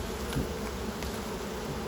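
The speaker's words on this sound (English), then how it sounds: "There's a drone here, a male bee drone." Honeybees buzz steadily at an open city-farm hive during an inspection, a dense, continuous insect hum with a male drone among the workers, close and fairly loud throughout.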